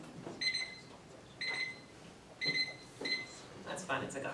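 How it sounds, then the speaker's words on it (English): Several short electronic timer buzzer beeps at irregular intervals, bright and tonal, with faint background noise between them. "when that buzzer makes a noise about 3 seconds"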